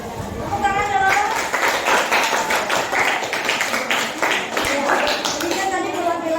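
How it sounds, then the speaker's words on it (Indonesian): A small group in a classroom setting claps hands together, a loose burst of individual claps that starts after a spoken voice and continues for several seconds, with talking underneath. "Tepuk tangan dulu"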